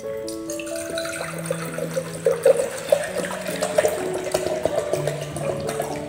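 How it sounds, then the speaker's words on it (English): Distilled water is poured into a glass beaker for a conductivity experiment, making a close, continuous trickling and filling sound with rising gurgles and no voices over it. "now I am taking the distilled water for experimentation."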